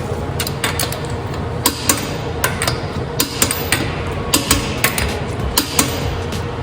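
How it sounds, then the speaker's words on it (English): A torque wrench tightens lug nuts on a 2016 Honda CR-V, giving a string of crisp mechanical clicks and knocks over a steady background hum, close by and with no talking. "You don't ever want to over torque your lug nuts. Again, take your torque wrench."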